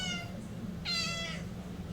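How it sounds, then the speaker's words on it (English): A cat gives a faint, brief meow, then a louder, clearer meow about a second later, both heard over a steady low background hum. "Now, can you stop meowing?"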